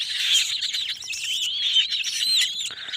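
Purple swamphens calling near water where the birds bathe, with a steady stream of high chirping and whistled calls running continuously and fairly close, alone without voices.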